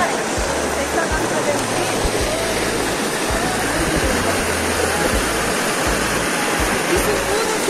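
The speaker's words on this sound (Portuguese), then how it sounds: "Essa queda d'água ali já foi." A waterfall pours steadily inside a pousada in Serra do Cipó, Minas Gerais, a loud, continuous broadband rush of falling water that fills the scene without pause, close by and unbroken.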